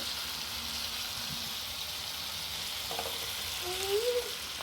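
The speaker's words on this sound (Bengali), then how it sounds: "এবার এটাকে ভালো করে নেড়ে চেড়ে নেব" Pointed gourd (potol) with cashews frying in a pan, stirred with a steady broadband sizzle throughout and a few louder scraping strokes near the end, close and continuous with no talk.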